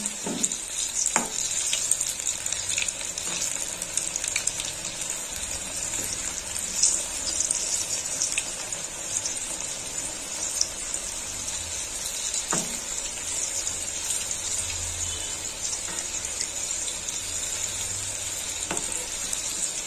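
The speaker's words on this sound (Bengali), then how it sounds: "গরম হয়ে গেছে, এবার পুলিগুলো ভেজে নেব।" Puli pitha dumplings sizzle steadily in hot oil, a dense, constant crackle with a few soft knocks, loud and close throughout.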